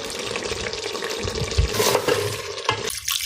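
Lahori paya being fried and stirred in ghee, with close, steady sizzling and scraping stir strokes throughout, briefly louder in the middle.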